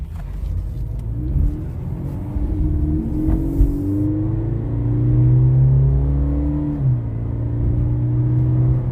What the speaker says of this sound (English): We're going to go ahead and take it for a little test drive.